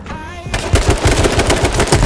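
Rapid, loud automatic gunfire in the video game H1Z1 King of the Kill, a close, continuous burst of shots starting after a brief quiet moment and running to the end.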